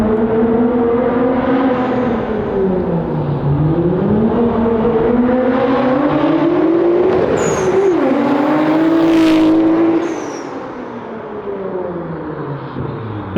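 A Nissan Skyline R33 GTR on its stock exhaust manifold revs hard and close, its engine note rising and falling in loud sweeps before dropping away near the end, with a sharp pop or two over the top.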